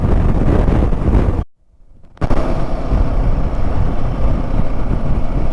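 Strong, steady wind roaring across the microphone during a motorcycle ride near Theni, Tamil Nadu, briefly dropping out to near silence before the rush returns.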